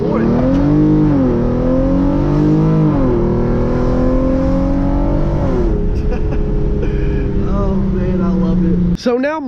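A Hyundai Genesis Coupe launches hard in first gear from about 4,000 rpm with traction and stability control off, its engine note climbing loudly in rising revving sweeps before a brief lift near the end.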